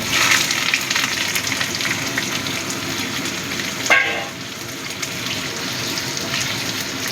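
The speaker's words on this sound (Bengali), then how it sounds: "তেলটা ভালো মতো গরম হয়ে গেছে, এবার আমি সবজিগুলো দিয়ে দিচ্ছি।" Vegetables for vegetable fried rice drop into hot oil and sizzle steadily, a loud continuous frying hiss with a brief stirring clatter partway through, no voices.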